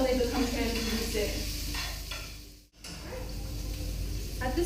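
Vegetables for cousa mahshy cook down in a pan, a continuous close sizzle with occasional stirring scrapes, cutting out briefly midway before resuming at the same level.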